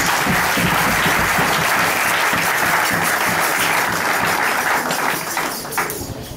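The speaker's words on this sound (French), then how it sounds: "Applaudissons fort le Seigneur Jésus" A church congregation applauds loudly, a dense, continuous wall of clapping that fades slightly in the last second.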